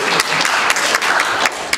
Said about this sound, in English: feel free to applaud and scream and holler all you want